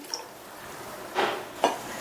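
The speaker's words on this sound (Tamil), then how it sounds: "அதனால இப்பவே இன்னொரு 1/2 கப் மட்டும் தண்ணி சேர்த்துக்கிறேன்." Water added to simmering sambar in a cooking pot, heard as two brief, soft splashes a half-second apart over a quiet background.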